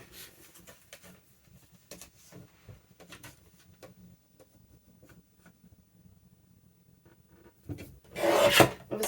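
Excess paper is trimmed from the edge of a patchwork journal cover made from paper scraps and packaging, with quiet scratchy snips and rubs followed by a louder, brief rasping burst near the end.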